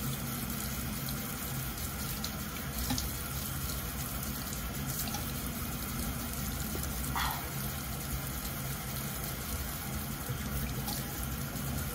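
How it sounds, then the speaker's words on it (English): Tap water runs steadily into a sink during rinsing, a constant close hiss with no break across the whole stretch. "And then I'll just rinse it off."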